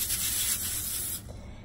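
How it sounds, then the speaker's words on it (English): Cooking spray hisses onto a lined pan in one short, close burst that cuts off after about a second, leaving a faint quiet tail. "I have a pan here which I line, and I'm just gonna give that a little spray"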